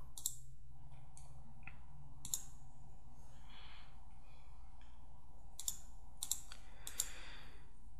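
Sparse, crisp mouse clicks on a computer running SolidWorks software, a handful of isolated sharp taps spread across several seconds against a faint low hum, with no talking.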